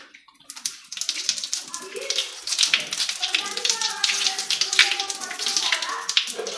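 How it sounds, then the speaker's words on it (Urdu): Water pours from the spout of a lota onto the face during wudu ablution, a steady splashing trickle running throughout at close range. "اس بدھنے کی ٹوٹی سے چہرے کے جہاں بال اگ رہے ہیں وہاں سے پانی گرانا شروع کریں گے۔"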